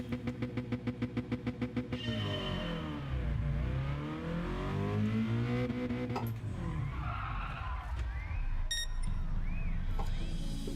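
A car in the Gran Turismo Sport racing game accelerates hard through climbing, shifting engine tones, then brakes with a squealing tire skid and deceleration, loud and continuous with no talk.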